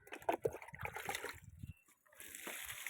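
Liquid plant fertilizer made from kitchen peels splashes and trickles from a container onto dried-out potted plants, close and soft, with a brief gurgling pour.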